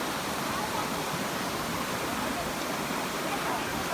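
A waterfall at Kanching near Rawang roars in a constant, dense rush of falling water, close and steady throughout with no breaks.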